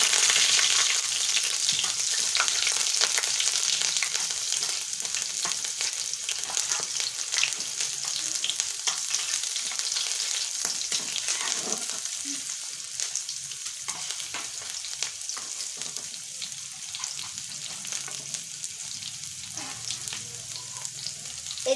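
Ginger paste, whole garlic cloves and whole dried chillies frying in hot oil, making a loud, dense and continuous close sizzle that eases slightly over about twenty seconds, with occasional stirring and no talking.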